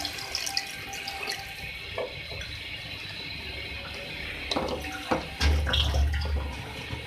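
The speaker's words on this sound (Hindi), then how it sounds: "इसके साथ मैं वाटर ऐड करूँगी इसमें।" Water pours into a pot of chicken and potato curry, a steady splashing fill running for several seconds with a fuller surge near the end.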